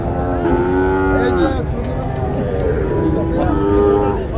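A heifer at a crowded cattle market gives two long, drawn-out moos, one near the start and another toward the end. Both rise above a constant din of crowd noise and chatter.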